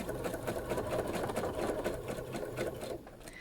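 A sewing machine stitches an outline on a bohemian spring quilt block with a steady close whirring hum and rapid needle ticking, easing off slightly near the end, with no speech.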